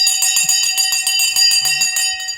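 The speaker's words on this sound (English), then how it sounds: "The bell has gone." A stock market opening bell rings loudly and continuously in rapid repeated strokes, holding steady for a couple of seconds before tapering off.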